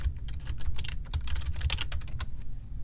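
Fingers typing a search term on a computer keyboard, a quick, continuous patter of key clicks heard close and alone for a few seconds.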